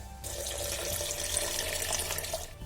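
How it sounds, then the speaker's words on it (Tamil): Ice water being poured into a blender jar of mint lime juice ingredients, a steady splashing gush of liquid lasting a few seconds, fairly soft and close with no talk. "கடைசியாக 2 கிளாஸ் ஐஸ் வாட்டர்."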